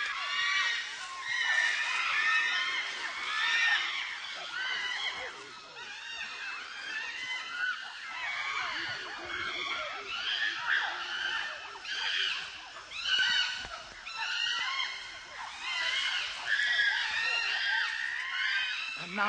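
A chorus of shrill, overlapping dinosaur screams and squeals rises and falls continuously from hunters in trees and spectators on the ground during a kill, loud and excited for nearly twenty seconds.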